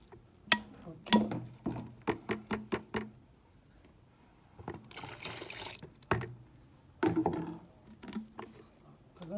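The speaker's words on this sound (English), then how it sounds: "So we add water to 2 liter mark." Water pours into a bucket being filled to the 2 liter mark for homemade toilet wash, coming in several splashing bursts separated by pauses, close up, with faint talking in between.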